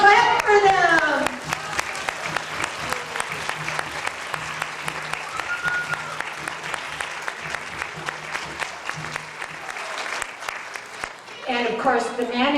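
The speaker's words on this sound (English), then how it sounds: "Let's clap for them." Audience at a school event claps for arriving guests, a steady patter of many hands that runs for about ten seconds between brief stretches of a voice talking at the start and the end.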